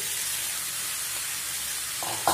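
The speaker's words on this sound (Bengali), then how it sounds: "এখন বেগুনগুলো যে আমি ভেজে রেখেছিলাম সেটা দিয়ে দিচ্ছি" Pre-fried eggplant is added to vegetables in a hot pan for a Bengali flat bean, potato and eggplant curry, and a constant sizzle and hiss from the pan swells briefly louder near the end.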